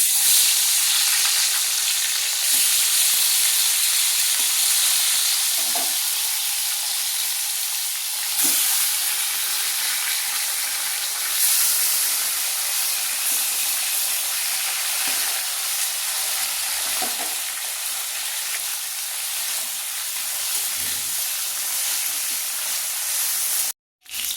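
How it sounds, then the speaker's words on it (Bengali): Fish, pomfret and similar, frying in hot oil gives a loud, steady, close sizzling hiss that runs without a break for over twenty seconds, with occasional faint clinks of stirring. "এবারে এই তেলেই মাছ ভেজে নেব।"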